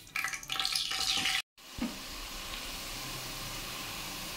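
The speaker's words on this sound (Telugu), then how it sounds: "నేను ఆనియన్ పేస్ట్ వేసేస్తున్నాను." Onion paste dropped into hot oil for a fish curry, a loud burst of frying hiss that cuts out abruptly, then returns as a steady, softer sizzle with a clunk of the pan.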